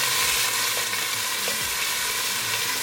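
Cumin seeds and ginger garlic paste sizzle in hot oil for a chicken curry, a dense, steady frying hiss with faint crackles and no voices.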